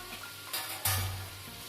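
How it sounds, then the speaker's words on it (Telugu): Ivy gourd and tomato curry stirred in a pan: a soft scraping stir with two short bursts of sizzle and clatter, close and moderately quiet, with no voices. "ఒక ఐదు నిమిషాలు ఇలా కలుపుకోవాలి"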